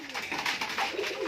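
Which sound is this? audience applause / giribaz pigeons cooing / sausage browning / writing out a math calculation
giribaz pigeons cooing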